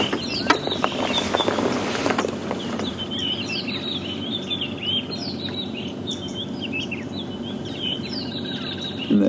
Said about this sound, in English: Very strange noise for a starling to make.